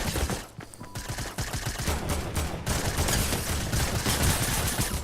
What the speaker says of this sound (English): Oh, they're shooting underneath.